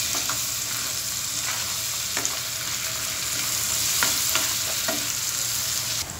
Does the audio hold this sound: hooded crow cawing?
no